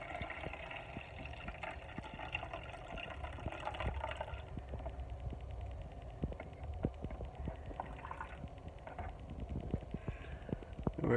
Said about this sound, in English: Water in the coffee maker.